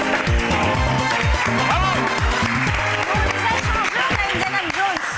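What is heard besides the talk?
audience applause for a TV talent show act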